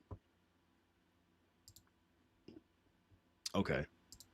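Scattered clicks on a computer keyboard sitting behind a stack of books, a few faint taps followed by a louder short burst of keystrokes.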